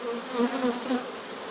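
Honey bees buzzing in a hive, a close dense drone with overlapping wingbeat hums that waver slightly in pitch, steady and unaccompanied by speech.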